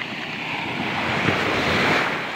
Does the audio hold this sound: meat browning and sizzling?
no